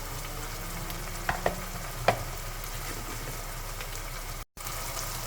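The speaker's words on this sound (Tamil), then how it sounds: "மசாலா நல்லா வதங்கிடுச்சு" Masala spices (chilli powder, Kashmiri chilli powder, turmeric) fry in a pan for spicy vermicelli, giving a steady close sizzle with a few brief scraping stirs and no talk.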